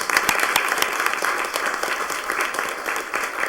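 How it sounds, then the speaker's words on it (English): A city council meeting audience applauds the Holyoke Caledonian Pipe Band, a steady round of dense clapping from a sizable crowd that holds at an even level with no voices. "we want to thank them and want to give them a round of applause"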